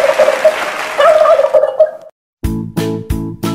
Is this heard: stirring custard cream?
no